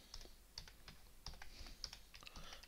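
Someone types on a computer keyboard in a rapid, uneven stream of quiet key clicks, close but faint, with no voice.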